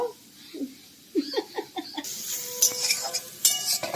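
Grated carrots fry in ghee for carrot halwa while a spoon stirs them, giving a run of close scraping strokes over a soft sizzle, with a few brief voice sounds near the start.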